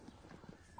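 A horse trotting, with faint rhythmic hoof clip-clops in a quick, even beat, heard at a distance and very low in level.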